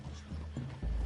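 Horses in a PS4 video game: a short burst of snorting and shuffling hoof sounds close by, with a low rumble and a heavier thud near the end, no talk.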